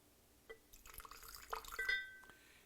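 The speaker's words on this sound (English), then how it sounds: "A splash of water." A short splash of water poured into a glass, with soft drips and a faint glassy ring, quiet and close.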